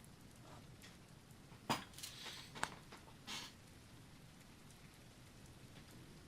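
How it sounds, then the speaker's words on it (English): Rain in the dinosaur survival video game The Isle, a soft, steady hiss of falling drops with a few brief louder clicks and splashes, no talking. "It certainly rains a lot on the Isle."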